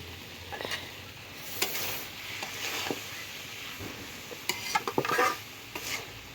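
Vegetable bhaji frying on low heat in a pan, a soft continuous sizzle with scattered spoon scrapes and metallic clinks against the pan.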